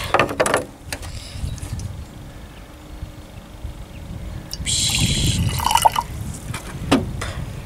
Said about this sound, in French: Donc, le principal, changer l'eau.